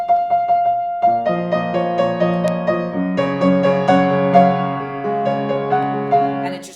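Close, clear solo piano plays the chorus of a song, starting with a few single repeated notes and then moving into full sustained chords under a melody, with no singing or talking.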